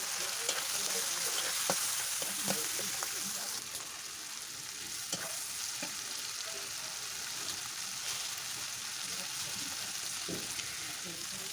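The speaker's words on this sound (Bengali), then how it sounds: "এই জন্য তেলে একটু হলুদ দিয়ে দিলাম" Shrimp and turmeric frying in oil in a home kitchen, a continuous hissing sizzle with occasional light clicks, soft faraway voices beneath it.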